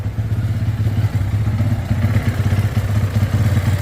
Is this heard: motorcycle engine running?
yes